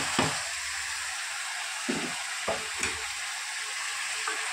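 Sesame seeds frying in masala in a pan, a steady broadband sizzle with occasional soft scraping thumps from stirring, close up and continuous.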